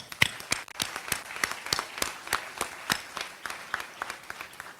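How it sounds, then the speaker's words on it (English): A round of applause for graduating seniors at a 2021 graduation ceremony: a modest group clapping steadily and fairly quietly, with individual claps distinct in a loose rhythm throughout. "I want to give you a round of applause"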